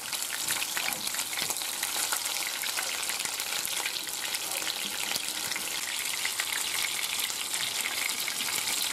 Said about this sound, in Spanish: Cuando se ha hecho un poquito le damos la vuelta y esté bien fritito.